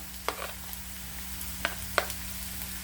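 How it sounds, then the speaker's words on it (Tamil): Onions and green chilies sautéing in a pan give a soft, steady sizzle, with a few sharp scrapes of a spatula stirring them. "இப்போ வெங்காயம் கொஞ்சம் வதங்கிடுச்சு இந்த ஸ்டேஜில் கொஞ்சமாக வந்து பச்சை மிளகா ஆட் பண்ணிக்கலாம்"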